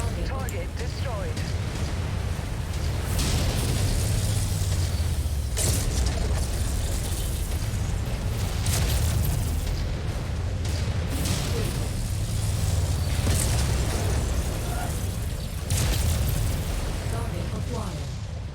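A target blowing up in the mech combat game MechWarrior 5, heard as dense rumbling blasts and bursts over a steady roar of machinery, with several sharper impacts spread through the stretch and a voice talking over the noise.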